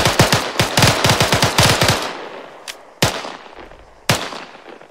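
Sustained machine-gun fire in the military video game Arma 3: rapid loud bursts of close shots for about two seconds, then a few isolated single heavy shots with fading echoes, no talk.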